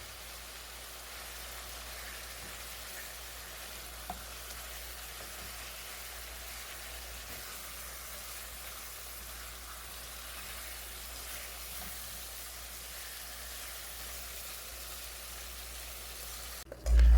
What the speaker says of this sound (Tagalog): Papan-fry lang natin siya.